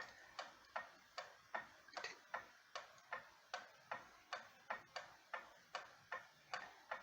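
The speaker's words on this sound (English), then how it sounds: "I can hear this tick-tock so well." Seth Thomas gallery wall clock from around 1910 ticking with a steady, even rhythm, about two sharp ticks per second, close and clear alone in a quiet room.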